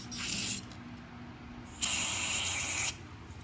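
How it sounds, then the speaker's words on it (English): Carburetor cleaner sprayed onto the carburetor of a 2004 Weedeater 20-inch mower with a Briggs & Stratton Classic engine, two close hissing bursts, a short one then a longer one of about a second, with a quiet gap between. "there's some carb spray."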